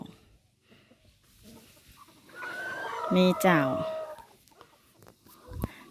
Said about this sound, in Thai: ตาเปิ้นชอบเลี้ยงไก่นะเจ้า แต่เลี้ยงไก่โจนนะเจ้า